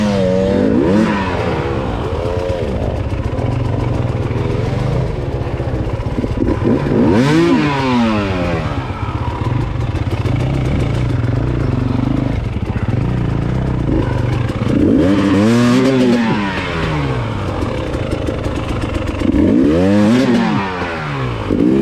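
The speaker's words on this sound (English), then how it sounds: "Sounded like that sneaky bastard of a rock shifted my bike into second gear" An enduro motorcycle picks its way over rough rocky ground, its engine rising and falling in repeated revving surges with some clatter, while a rock knocks it into second gear.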